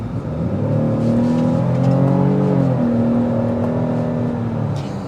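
A 2023 Cadillac XT5 Sport accelerates hard, the engine note climbing steadily through the revs, then shifting and climbing again, loud and close from inside the cabin with no talking.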